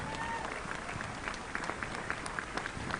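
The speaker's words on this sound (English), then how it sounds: "Give him another round of applause." A crowd at a powerlifting nationals meet applauds, a steady moderate patter of clapping with scattered louder claps and faint voices underneath.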